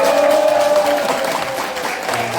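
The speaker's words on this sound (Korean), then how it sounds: "큰 박수와 함성까지 부탁드리면 어떨까요?" Audience applause with crowd noise at a lecture event in Cheonan, steady and fairly loud throughout, with a sustained tonal hum running underneath.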